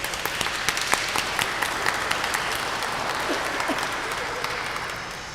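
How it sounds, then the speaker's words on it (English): Parents and guests applaud at a pre-K graduation ceremony, a broad, steady patter of many hands clapping at moderate volume, with a few sharper claps early on and the sound tapering slightly toward the end. "Let's give her a round of applause"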